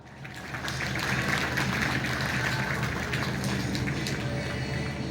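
A crowd at a commune festival gives sustained applause, a dense, even patter of many hands clapping that swells in after a quiet start and holds steady at a moderate distance.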